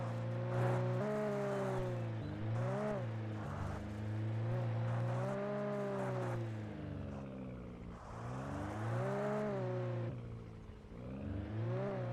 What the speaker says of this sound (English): They sound like little RC trucks.